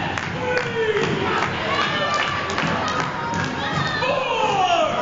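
Wrestling fans in the front row shout and cheer during an independent AML championship match, a busy crowd noise with excited young voices and a commentator talking over it.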